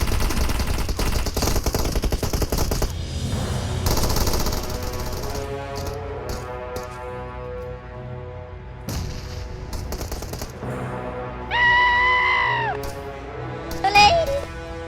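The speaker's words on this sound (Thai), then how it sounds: "หน้าที่หลักของพวกมันคือสังหารผู้เล่นที่เป็นคนจริง ๆ โดยการยิง ยิง และก็ยิงเท่านั้น" Bots fire guns in PUBG Mobile, with rapid bursts of gunfire mixed with game sounds and tonal effects. A voice talks over the shooting.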